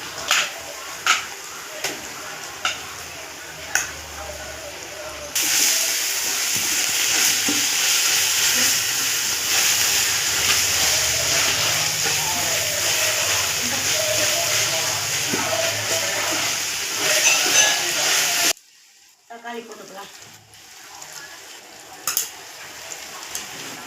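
Onions sautéing in a pan for chicken biryani give a steady, loud sizzle and frying hiss, with occasional stirring clinks early on, before the sound drops off near the end.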